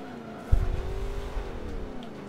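A Chevelle race car engine revs hard, one sharp burst rising into a sustained, slightly wavering roar that holds steady and close without any talk.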